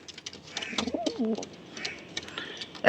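A female Giribaz pigeon gives a low, throaty coo close by, a single rolling phrase amid scattered rustling and soft background noise.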